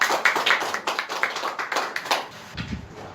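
An audience applauds a speaker coming forward at a Korean debate with the Shincheonji group, a brief burst of rhythmic hand clapping that tapers off, followed by a low rumble.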